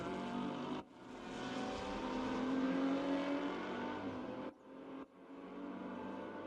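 A Mercedes race car engine in a Bathurst racing video game screams at high revs, rising in pitch as it accelerates, with abrupt drops in sound at gear changes, loud and close without talk.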